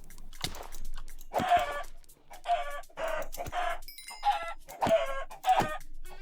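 Minecraft chickens cluck in a string of short, choppy bursts, several distinct calls spaced irregularly over a few seconds, close and clear with no talking.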